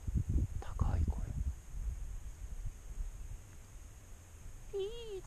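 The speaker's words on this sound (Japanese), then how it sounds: "でも山の方から聞こえるのは鹿の声ですね。" On a snowy mountainside in Hokkaido, a deer gives a single high, wavering whistle-like call near the end, distant and faint. Before it come crunching footsteps and breathy rustling from close by.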